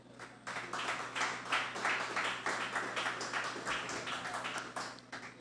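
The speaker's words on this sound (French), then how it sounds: "Encore des applaudissements pour Passéus Jovensky Saint-Fleur." An audience claps at a talk on youth employability in Haiti. The individual slaps come through distinctly in a lively, fairly even rhythm over a low steady hum, with a moderate crowd at mid distance.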